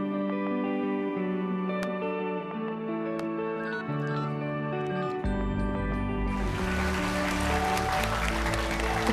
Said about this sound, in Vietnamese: chị hai vỗ tay quyết liệt luôn